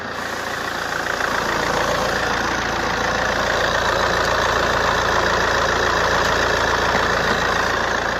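A car engine idles steadily and close by, a constant mechanical rumble with a faint ticking texture, no voices.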